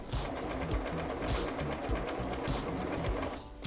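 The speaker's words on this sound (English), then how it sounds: "I'm actually going to top stitch my hole closed on the machine" A sewing machine top stitches around the edge of a fabric sleep mask, closing its opening, with a steady close rapid whirring and needle clatter that runs continuously, briefly slowing near the end.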